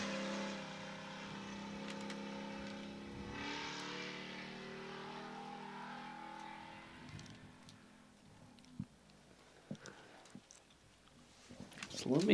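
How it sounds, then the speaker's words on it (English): A race car engine at the 2025 Big Sky 200 race in Broadview, Montana, revs hard as the driver hits the throttle, a rising harmonic roar that fades after several seconds into scattered sharp knocks and clatter. "Hits the throttle there just for a minute."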